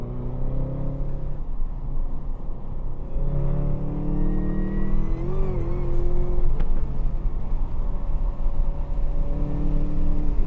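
A Chevrolet Camaro ZL1 1LE laps Buttonwillow Raceway Park, its engine droning loud and close from the cabin with rising and falling revs as it accelerates and shifts.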